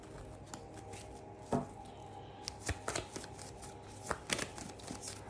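Tarot cards are shuffled and dealt into piles close up, giving soft riffling, a few sharp slaps and flicks scattered over a few seconds against a low background hum.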